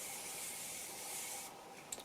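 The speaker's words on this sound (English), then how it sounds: "I'm going to use my Morphe Jeffree Star Setting Fixing Spray," A Morphe Jeffree Star setting and fixing spray mists onto a made-up face as a faint, continuous hiss for about a second and a half, then cuts off into quiet.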